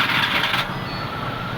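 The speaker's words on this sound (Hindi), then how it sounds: "सुन इंजन है माशाल्लाह" A car engine at a repair garage cranks and catches in a short loud burst, then settles into a steady, quieter idle close by.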